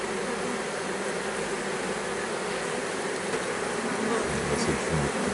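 A mass of honeybees hums steadily at close range while a hive is being transferred, a thick, unbroken buzz with a slight low thump near the end.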